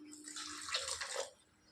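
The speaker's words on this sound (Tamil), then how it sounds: "தண்ணி ஊற்றி" Water poured into a coconut chutney mixture with garlic and salt, a short, faint, steady splashing trickle lasting about a second.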